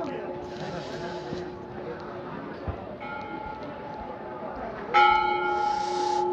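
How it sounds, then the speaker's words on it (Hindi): A temple bell at Gangotri temple rings out in a few clear, sustained strikes amid outdoor crowd murmur, the last strike loud and close. "तो जैसा कि आप लोगों को मंदिर की अब घंटी की आवाज़ सुनाई दे रही है"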